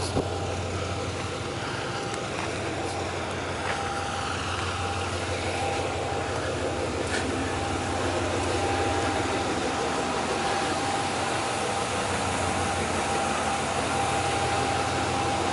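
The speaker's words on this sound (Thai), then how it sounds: "อันนี้รถไฟกิริรัตนิคม" Diesel train on the Khiri Rat Nikhom line, a free social-service train out of Surat Thani, idling with a steady low engine rumble that holds for the whole stretch, a faint higher tone above it and no talk.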